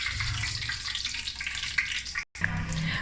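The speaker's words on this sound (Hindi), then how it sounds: "5 मिनट हो गए हैं अंडों को फ्राई करते हुए" Eggs frying in a pan give a steady crackling sizzle, bright and close, with a deep low bubbling underneath and one abrupt silent gap just before the sizzle resumes.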